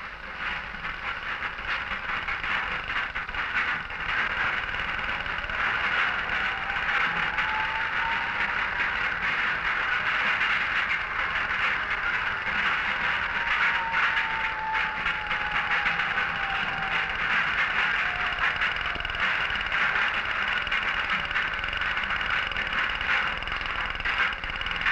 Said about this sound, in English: It takes skill and experience to handle these roaring 8-ton cutters with their 100 whirling picks.